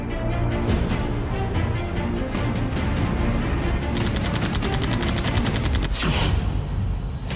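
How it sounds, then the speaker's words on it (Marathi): Gunfire in a news report on Iran firing at an Indian oil tanker, with dense bursts of rapid shots running steadily through the whole stretch, loud and continuous. "भारतीय तेल टँकरवर इराणची फायरिंग."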